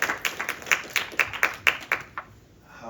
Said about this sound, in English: So give yourself a round of applause for sitting through so much stuff